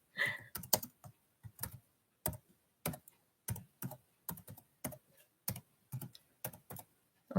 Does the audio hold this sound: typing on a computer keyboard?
yes